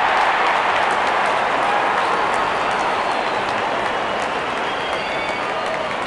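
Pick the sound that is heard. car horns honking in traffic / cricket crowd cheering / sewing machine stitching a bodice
cricket crowd cheering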